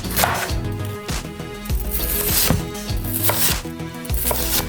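A knife chops onions into small squares on a cutting board, with sharp, irregular blade strikes close up, repeated several times over a few seconds with no talking.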